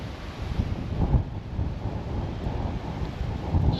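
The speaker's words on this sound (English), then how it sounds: "This gives you an idea how windy it is." Gusting wind on a blustery day in a park, a steady loud broadband roar buffeting the microphone with surges near the start and end, no voices.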